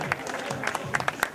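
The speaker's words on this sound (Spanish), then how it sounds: "Gracias, ese aplauso" Applause at an awards ceremony, a short burst of close handclaps from a small group, irregular sharp claps over a low room murmur lasting just over a second.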